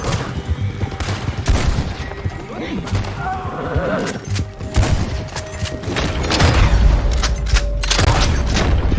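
Gunfire in the Red Dead Redemption 2 video game during a standoff with United States Army soldiers, with repeated shots and booms mixed with horse hooves and shouting voices, loud and busy.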